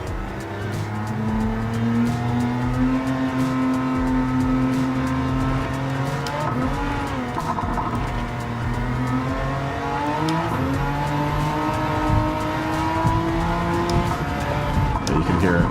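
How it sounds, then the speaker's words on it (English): A race car in Gran Turismo 7 struggling for grip under acceleration, steady loud engine drone with revving pitch shifts and tire squeal as the wheels spin, while someone talks over it. "My car is like not catching any traction on acceleration. Just hear the wheels spinning."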